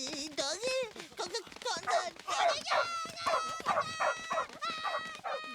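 A dog yelping and whimpering in a home, high whiny cries and short barks in rapid repeated bursts, close and loud, mixed with agitated vocal sounds.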